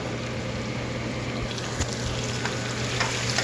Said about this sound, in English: we're going to go ahead and add our mushrooms. And we're going to let these cook for a couple minutes.